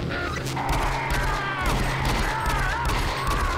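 Gunfire from the shooter game Doom 3 rattles in steady bursts against zombies, with loud, dense rapid shots that go on almost without a break while someone shouts over them.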